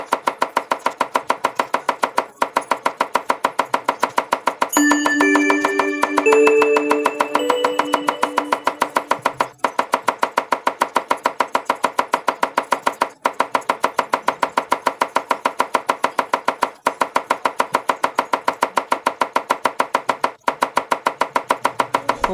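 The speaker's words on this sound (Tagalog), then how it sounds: "Hiwain na natin lahat yan. Yung sibuyas, kamatis, bawang." Knife chopping onion, tomato and garlic on a board for pork sinigang with tamarind, with steady rapid cuts throughout and a brief clatter midway, no talk.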